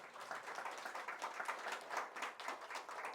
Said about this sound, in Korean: 동감하시면 박수 한번 주십시오